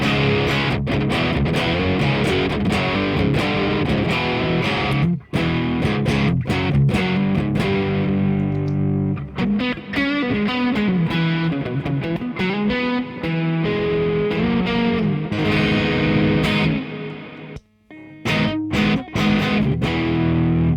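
A heavily distorted electric guitar plays chords and riffs through an Orange Micro Dark Terror amp with Groove Tube 12AX7 preamp tubes, recorded with a ribbon mic, loud and saturated, with a few brief pauses between phrases.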